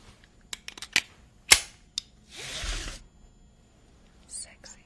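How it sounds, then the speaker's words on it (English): A vintage 1963 car seatbelt buckle clicks shut, heard as a run of sharp close clicks ending in one crisp snap, then a soft rustle of webbing, recorded quietly with no talking. "Here's the sound of the seatbelt."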